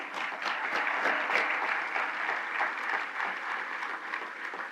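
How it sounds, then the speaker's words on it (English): A crowd at a women-in-leadership awards gala applauds honorees, a dense, even stretch of many hands clapping that holds steady for a few seconds without pause. "Please join me in a round of applause for them as well."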